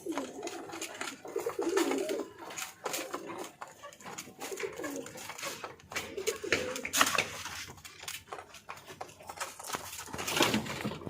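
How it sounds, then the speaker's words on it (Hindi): Pet birds in a home aviary, pigeons and a pair of green parrots, with repeated soft pigeon cooing in bursts close by, mixed with fluttering and light clattering. "ये हमने सब्ज तोते भी रखे हुए हैं, जोड़ी है, ऊपर भी जोड़ी है।"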